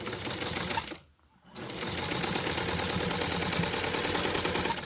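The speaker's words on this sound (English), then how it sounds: "I'm going to sew it like I did the other one" A sewing machine stitching doll clothing fabric, a loud continuous mechanical whir close by that pauses for a moment and then resumes steadily.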